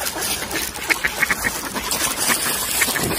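Hungry ducks crowd together in winter, quacking in a thick, overlapping chorus of nasal calls at close range, loud and unbroken for a few seconds.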